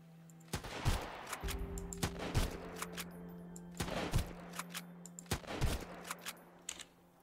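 Rifle gunfire in the video game Sunkenland: several sharp, loud shots in irregular bursts over about seven seconds, with a steady humming drone underneath.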